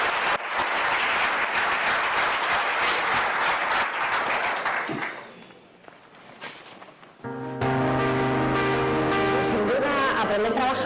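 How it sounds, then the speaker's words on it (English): Applause from the audience for panelists at a labour-market policy event. Dense sustained clapping fills the first five seconds, then fades into quiet, and music takes over after that. "And now I wanted please a round of applause for the panelists."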